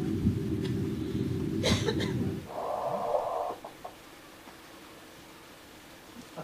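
Gravitational wave chirps from merging black holes played as sound: a low rumbling hiss that cuts off abruptly, then a brief higher swept tone, fairly loud, followed by quieter room noise.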